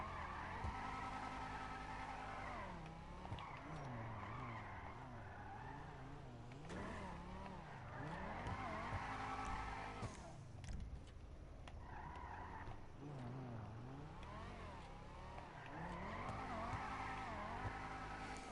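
A car drifts in the video game GTA 5: a steady engine drone rises and falls with revving, joined by stretches of squealing tires, all sustained and fairly close throughout.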